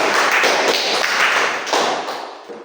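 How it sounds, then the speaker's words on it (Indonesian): An audience claps hands together in a dense burst of many overlapping claps, fairly loud and close, which gradually thins and fades toward the end. "Tepuk tangan lagi ya."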